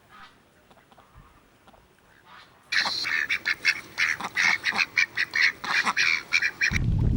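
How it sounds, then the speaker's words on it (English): Ducks, including a Muscovy duck, call in a park with a loud rapid run of quacks and honks that starts abruptly after a quiet stretch and continues in close, choppy bursts. "This is a rare duck to see in the park area, a Muscovy duck."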